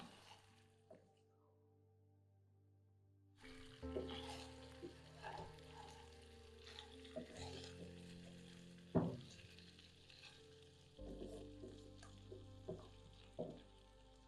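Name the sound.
chicken 65 frying on medium flame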